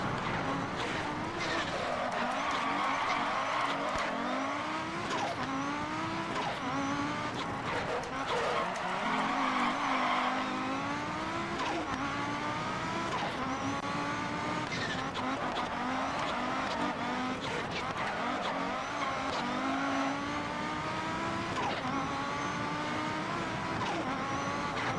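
A rally car in a Pikes Peak sim racing game brakes hard and works through corners, with a loud continuous engine whining up and down through gear changes and tyre squeal throughout. A voice talks over it in places.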